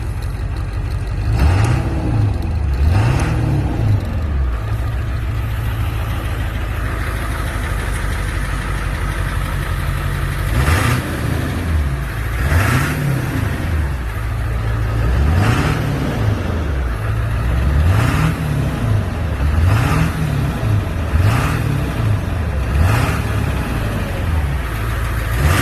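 The engine of a 1999 Ford F-350 crew cab dually idles steadily at close range, with repeated short throttle blips that rise and fall in pitch throughout.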